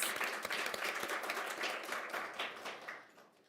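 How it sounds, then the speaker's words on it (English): Audience applause at an awards ceremony: a dense patter of many hands clapping, steady at first and then gradually thinning and fading out. "Yes, please give a round of applause."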